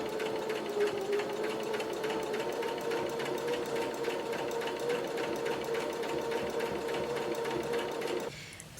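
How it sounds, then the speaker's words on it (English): Close, steady rapid stitching from a sewing machine sewing a fabric bag to be filled with rice, an even mechanical chatter that runs continuously and stops abruptly near the end. "So I'm gonna do some of the sewing."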